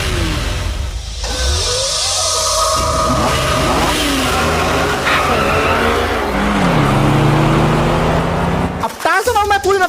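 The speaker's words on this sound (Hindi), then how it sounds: "टार्जन और मैं पूरी रफ्तार से निकल पड़े थे हम किडनैपर्स को पकड़ने के लिए" Car speeding through GTA 5 gameplay, with a loud continuous engine roar, tire skids and squeals, and rising revs across the stretch, under a voiceover.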